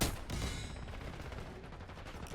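Akimbo GS45 pistols firing in a video game: a loud opening blast followed by a rapid, crackling run of shots that stays dense and close to the end.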